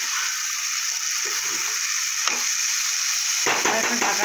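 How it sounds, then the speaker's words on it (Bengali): Cut beans fry with spices in a pan of hot oil for a vegetarian cabbage-and-potato dish, with a steady soft sizzle and a few stirring scrapes, then a sudden louder burst of hissing. "এবার আমি দিয়ে দেবো কেটে রাখা বিনস। বিনসটার সাথে মশলাটা ভালো করে কষিয়ে নেব সবার সাথে।"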